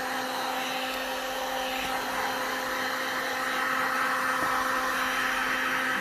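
A heat gun on its high setting blows hot air onto the sides of a resin bowl with a druzy crystal centre, a steady loud whooshing whine that holds throughout and swells slightly near the end.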